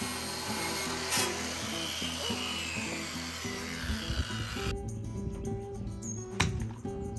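A saw with a carbide-tooth blade cuts through decking wood, a continuous rough, buzzing grind with a steady humming drone under it that thins out abruptly partway through.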